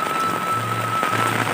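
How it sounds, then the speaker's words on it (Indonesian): Heavy rain falling in a Sundanese village, a dense, loud, steady patter with no voices. "lumayan lebat ya hujannya teman-teman"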